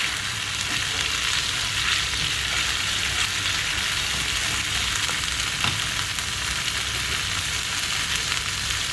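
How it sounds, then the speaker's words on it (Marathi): Masala for a mushroom and capsicum curry fries in a pan, giving a loud, dense, unbroken sizzle close up with faint stirring beneath. No voices. "ते चांगलं फ्राय करून घ्यायचं"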